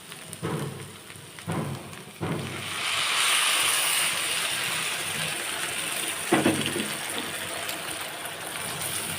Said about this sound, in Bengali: এখন এতে আমি দিয়ে দেবো পরিমাণ মতো জল